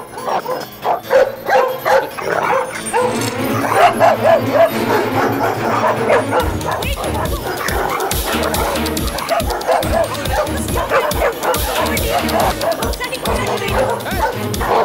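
Several dogs bark, yip and whimper in quick, overlapping bursts close by, continuing throughout, while a person's voice is heard among them.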